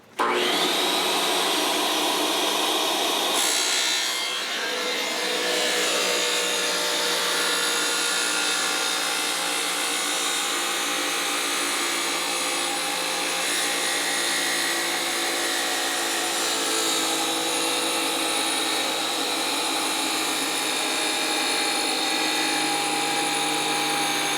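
A tile saw cuts tile for bullnose edging, a loud sustained whine that starts abruptly, dips briefly as the blade bites, then grinds on steadily and close for over twenty seconds without talk.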